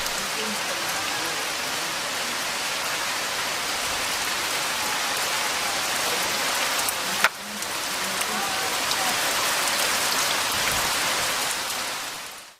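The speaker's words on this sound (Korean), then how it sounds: "우리나라의 전반적 지역에서 폭우를 동반한 많은 비가 내리는" Heavy rain falling steadily in North Korea, a dense, even hiss of drops striking surfaces that runs unbroken for several seconds, briefly dipping once before resuming and fading out at the close.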